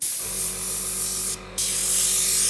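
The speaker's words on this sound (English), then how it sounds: "As you can see, I can really pull it back and get that nice spray." An art spray is tested on a piece of paper, a loud, steady hiss close up that briefly cuts out and then resumes.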